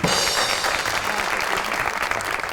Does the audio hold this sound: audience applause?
yes